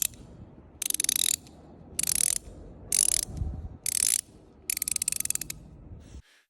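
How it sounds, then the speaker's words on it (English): A 17 mm ratchet wrench with an offset ring end clicks in five quick bursts of rapid ratcheting, close and crisp, separated by brief pauses over low background noise. "the offset ring side incorporates a ratchet mechanism"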